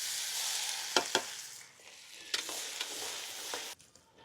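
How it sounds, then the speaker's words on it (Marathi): Chopped garlic fries in hot oil with cumin, mustard seeds and curry leaves, giving a bright close sizzle marked by several sharp spoon knocks and scrapes against the pan, the hiss fading and returning. "आपला लसूण चांगला बऱ्यापैकी फ्राय झालेला आहे।"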